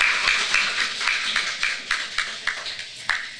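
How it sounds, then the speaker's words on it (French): An audience applauding organisers at a women-in-tech event, a thin spread of handclaps running steadily throughout, with several sharper individual claps standing out near the mic. "j'aimerais qu'on applaudisse tous ceux qui ont organisé cette activité"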